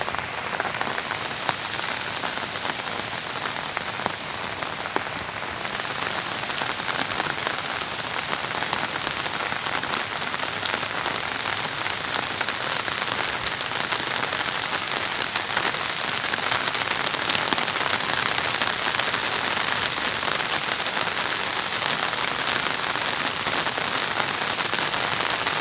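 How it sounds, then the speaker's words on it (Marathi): Heavy monsoon rain in the Konkan countryside pours down steadily onto surfaces, a dense, loud, unbroken patter lasting throughout with no voices. "पुन्हा एकदा जोरदार पाऊस यायला सुरुवात झाली."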